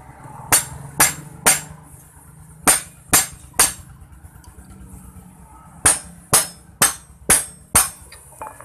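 Sharp metallic taps ring out in quick groups of three, three and five while a clutch nut is tightened on a Suzuki Shogun 125 motorcycle being converted to a hand clutch, each impact close, bright and clipped.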